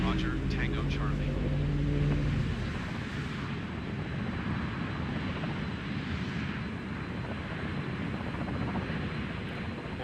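An airplane engine in the video game Microsoft Flight Simulator drones steadily throughout, a loud, continuous rumbling roar, with a brief tonal radio-like voice at the start.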